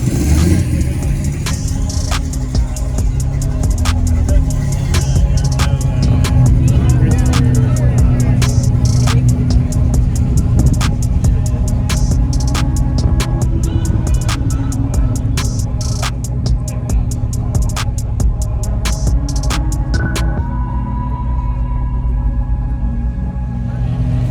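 A Corvette C8 Z06 engine runs at a car meet among classic Camaros, with a steady loud rumble and some revving, then settles toward a quieter idle near the end.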